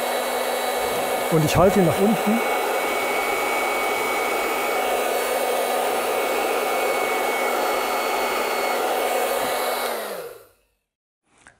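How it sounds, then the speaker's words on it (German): A hair dryer is switched on and held pointing down during a home physics experiment on the Bernoulli effect. It gives a loud, steady whooshing hum for about ten seconds before cutting off, with someone speaking briefly near the start. "Wir schalten den Föhn ein"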